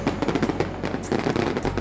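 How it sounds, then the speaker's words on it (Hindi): Firecrackers in an animated story crackle in a rapid, dense burst of sharp pops, loud and continuous for under two seconds. "फिर उसने अपने छोटे से बेटे को घर पर पटाखे छुड़ाते देखा। वो भी बहुत जोर की आवाज कर रहे थे।"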